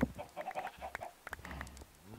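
Chickens in the Minecraft video game cluck in a quick run of short, mid-pitched calls, fairly close and moderately loud, with a few sharper notes near the end and no talking.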